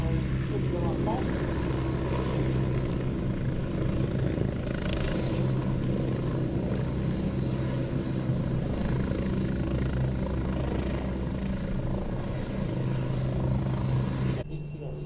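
A Westland Wessex HAS1 helicopter flies at an airshow, its steady rotor and engine drone loud and continuous throughout, ending abruptly.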